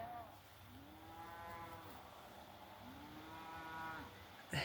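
Cattle driven down the street of a small Southern Alberta town low twice in long, drawn-out moos, distant and faint over steady outdoor background noise.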